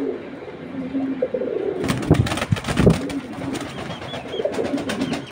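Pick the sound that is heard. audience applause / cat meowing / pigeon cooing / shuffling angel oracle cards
pigeon cooing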